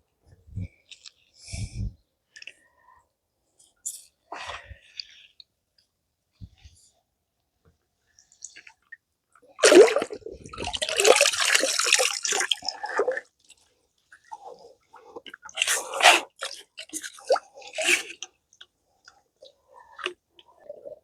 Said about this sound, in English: Now we're just rinsing the bags to get the algae off.